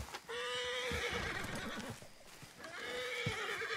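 A horse whinnies twice in Red Dead Redemption 2, each a loud, drawn-out neigh with a falling pitch, separated by a brief lull filled with softer snorts and hoof sounds.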